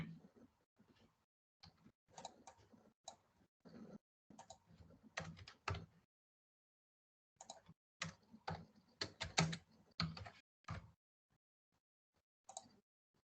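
Someone types code on a computer keyboard in irregular bursts of clicking keystrokes separated by short pauses, close and clear with no talking.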